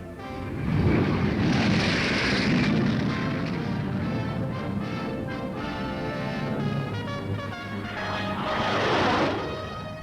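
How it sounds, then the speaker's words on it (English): Jet fighter airplanes roaring past during a demonstration at a Formosan airfield, a loud sustained drone that swells, fades slightly and surges again near the end, with a tonal whine riding on top. "the nationalist forces received their first shipment of jet airplanes"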